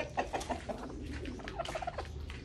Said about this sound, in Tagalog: Yan, mga manok na yan, oh.